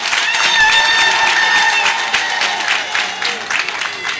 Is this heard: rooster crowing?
no